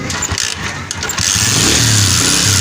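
A Honda 125 motorcycle being kick-started: a few sharp kicks and sputters, then the engine catches and settles into a steady, loud idle close by.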